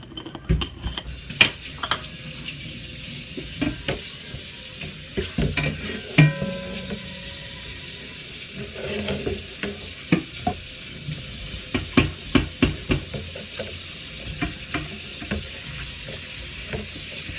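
Lamb browning in olive oil sizzles in a pan, broken by irregular clinks and scrapes of a utensil stirring the meat, close and fairly loud with no voices.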